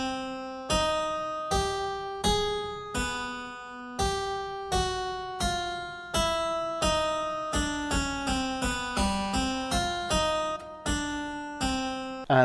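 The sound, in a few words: the King's theme that Bach improvised a fugue on, played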